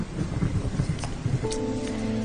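Steady heavy rain hisses continuously, with a tonal hum rising partway through, and no voices.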